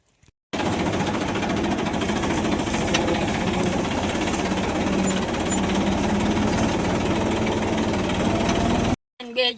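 A tractor engine runs steadily with a loud, rapid chugging rumble close by, starting and stopping abruptly.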